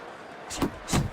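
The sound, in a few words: punches landing in the boxing video game Fight Night Champion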